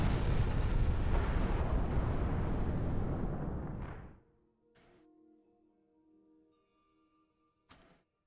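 A massive Nova Bomb nuke explosion in Halo 3 multiplayer roars loud and broadband for about four seconds, then cuts off abruptly, leaving faint tonal hum and two brief distant bursts.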